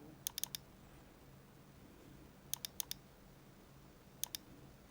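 Sharp quiet clicks of a computer keyboard and mouse during Photoshop work come in three small clusters of two to four taps over a faint room hiss.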